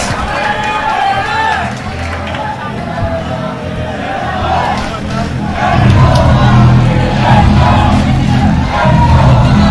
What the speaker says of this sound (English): And you're hearing it from the crowd here.